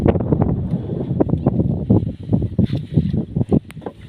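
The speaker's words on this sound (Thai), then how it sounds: "คือมีลมมาเลยเนาะ" Wind gusting on an open boat trip buffets the microphone in a steady, rumbling roar, with choppy bursts of louder buffeting throughout.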